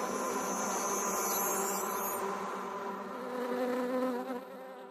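Bees hum in a dense, continuous buzz, close and steady throughout, with no voices.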